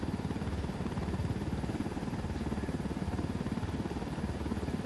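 A helicopter in a military video game mission, its rotor giving a steady, fast low thudding pulse with a rumbling engine drone, moderately loud and continuous.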